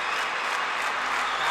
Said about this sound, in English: Crowd is picking up here, too.